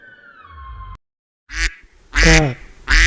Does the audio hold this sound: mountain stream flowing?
no